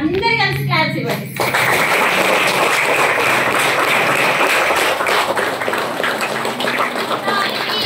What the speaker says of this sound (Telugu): ఒక్కసారి కొత్త వాళ్ళందరికీ అందరు కలిసి క్లాప్స్ ఇవ్వండి